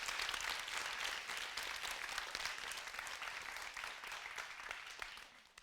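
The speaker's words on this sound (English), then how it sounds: "A big round of applause" Audience applause at a professional leadership event, a dense wash of many hands clapping steadily for several seconds and tapering slightly toward the end, with no talk over it.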